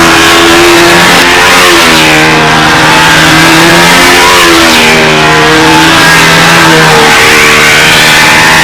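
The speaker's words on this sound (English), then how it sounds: "Yes, it is a 4-stroke." Four-stroke engine on a control-line model airplane in flight at a fun scale contest, a loud continuous buzzing drone whose pitch rises and falls steadily as the plane circles, alone without talk.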